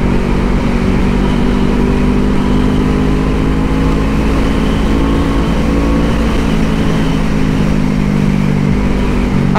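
Motorcycle in 4th gear with its engine droning loud and steady, a continuous close drone with a constant low hum and rushing noise, no pauses across the whole stretch.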